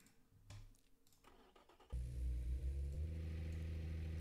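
A video game car with a massive aftermarket exhaust starts abruptly after a short stretch of faint noise, then settles into a loud, steady, low rumbling idle with a rough buzzing texture.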